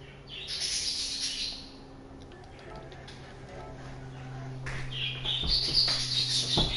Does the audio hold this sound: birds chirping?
yes